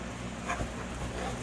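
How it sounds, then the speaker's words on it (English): A dog at home gives a brief, soft whimper around the middle of a short, quiet stretch, with low steady room noise around it. "my dog started barking"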